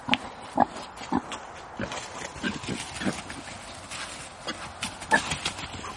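Running pigs grunt and squeal in short, scattered bursts over a busy background of shuffling movement, with a few louder snorts standing out.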